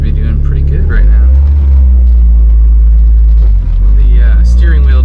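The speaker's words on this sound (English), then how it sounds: "driving pretty well. She's holding in. RPMs are holding steady." A 1984 Volkswagen GTI MK1 engine hums at steady revs while driving, a loud continuous low drone from inside the car with someone talking over it throughout.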